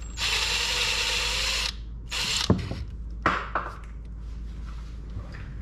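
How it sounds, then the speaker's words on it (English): A screwdriver or small tool works on the parts of a Kratos Titan 360. There is a sustained whirring buzz, then a few sharp close clicks and scrapes as the parts are handled. "Or you can use a regular screwdriver."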